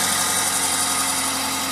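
Steady, close idle of a car engine that has just started after sitting unused for a long time, a constant low rumble with a faint uneven knock and no voices.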